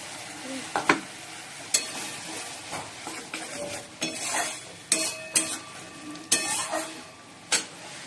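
Onion, ginger and garlic masala with poppy seed frying in a pan for katla fish posto, with steady sizzling, repeated stirring scrapes and sharp clinks of a utensil against metal, close and moderately loud.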